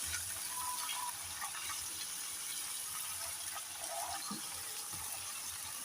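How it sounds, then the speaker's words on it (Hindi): Garlic-ginger paste and green chilli paste fry in a pot for a Lahori murgh cholay, giving a steady, continuous sizzle and hiss throughout with no talking. "लहसुन अदरक को फ्राई होते हुए 1 से 2 मिनट हो गए हैं।"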